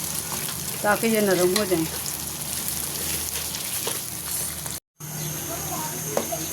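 Three small chopped tomatoes fry in ghee in a pan, producing a steady, close sizzle and crackle that continues under a person talking.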